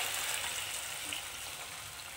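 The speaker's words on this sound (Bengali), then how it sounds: "তো 2 বাটি আমি জল দিয়ে দিলাম।" Water poured into a hot pan of fried vermicelli (semiya) gives a steady, close, hissing sizzle that fades slightly as it continues.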